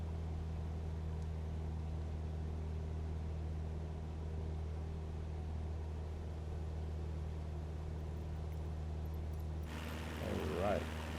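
Steady droning hum of a light aircraft engine throttled back to about 2,400 RPM in Microsoft Flight Simulator 2020, a constant low tonal rumble throughout, with a brief shift and wavering tone near the end.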